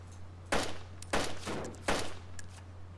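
Three loud gunshots in a video game fire at roughly even intervals, each a sharp blast with a short decaying tail, over a low steady hum.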